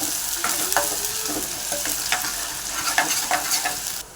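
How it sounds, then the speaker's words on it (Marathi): Onion, bay leaf and cinnamon sautéing in oil for an egg curry: constant close sizzling broken by the scrape and tap of a spoon stirring the pan. "परतून घेऊया कांदा तमालपत्र घालतो"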